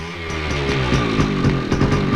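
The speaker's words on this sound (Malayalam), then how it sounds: "ബൈക്ക്." A motorcycle engine revs loud and close, a rough buzzing drone with rapid pulsing firing beats and no voices over it.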